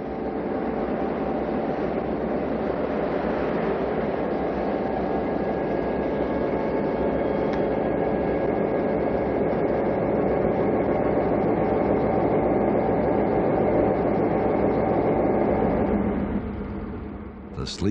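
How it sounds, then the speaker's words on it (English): Santa Fe passenger train No. 212, the Tulsan, arrives at Iola, Kansas in 1958 behind red and stainless EMD E8A diesel locomotive No. 81, a steady loud diesel drone with rumble and a faint horn-like tone, holding level before cutting off near the end. "as Santa Fe train number 212, the Tulsan, arrives behind EMD E8A number 81"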